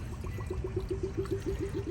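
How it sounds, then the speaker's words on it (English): Water poured from a container into the radiator of an overheating Range Rover with a leaky radiator, a steady close gurgling pour with rhythmic glugging pulses, heard alone. "by me pouring this inside, I'm going to allow the engine to at least stay cool"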